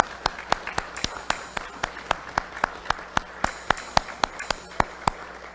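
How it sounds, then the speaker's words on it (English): A church congregation at a worship service applauds mothers, giving a steady patter of claps with sharp individual hand strikes standing out, moderately loud and filling the room. "And everybody give them a round of applause."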